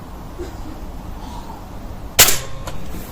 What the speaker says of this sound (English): I just keep on shooting at that bullseye and not at the pellet hole